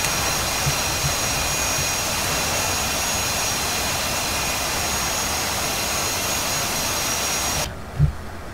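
Jet engine roar of an F/A-18C Hornet in flight in the DCS combat flight simulator, a loud, steady broadband rush with a high whine that cuts off abruptly near the end, followed by a low thump.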